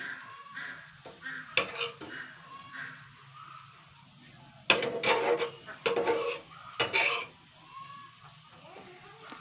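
A utensil scrapes and clacks in a pan while vegetable-colored noodles are gently tossed over a low flame, with quiet rhythmic stirring, a few louder bursts of clatter, and a faint sizzle underneath.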